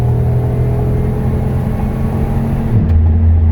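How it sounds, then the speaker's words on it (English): A car driven hard with the throttle pressed down, a loud steady engine rumble and road drone from inside the cabin, with the pitch shifting near the end. "you can definitely mash the throttle"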